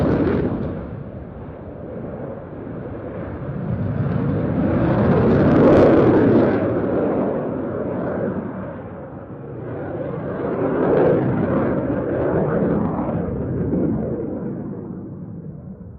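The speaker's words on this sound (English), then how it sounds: "this year they sent the JAS-39C Gripen for the flying display" Saab JAS-39C Gripen fighter jet in a flying display at the Roskilde Airshow, a loud continuous roaring jet engine that swells twice as the aircraft passes, rumbling throughout with no talk.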